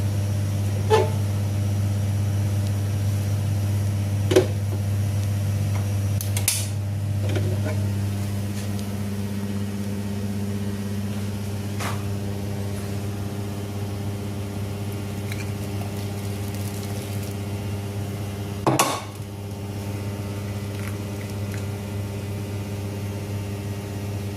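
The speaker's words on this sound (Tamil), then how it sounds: "நல்லா கொதிக்குது." Steady low rumbling of water boiling in a pot, with a few faint clinks and bubbling pops, no voices.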